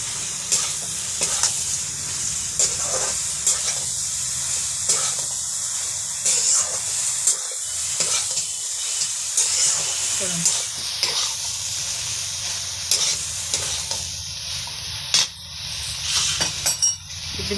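Milk maker and potato curry frying and being stirred in a pan, a steady sizzle running throughout with repeated scraping stirs, close and fairly loud.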